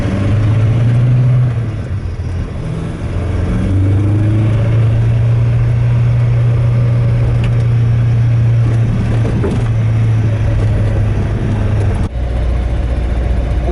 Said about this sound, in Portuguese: E o barulho do carro tá com provavelmente o escapamento original, pode até ter um furinho ou outro